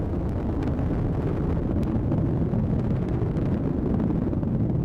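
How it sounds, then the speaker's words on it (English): An Atlas V 551 rocket climbs from Cape Canaveral with its booster engine roaring, a continuous deep, rumbling crackle heard from a distance, steady and loud with no voices over it. "Booster engine continues to operate as expected"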